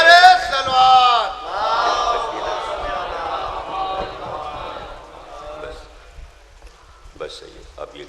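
A majlis congregation chants salawat in unison in reply to a slogan call, a loud, swelling crowd response that fades over several seconds, followed by scattered murmurs.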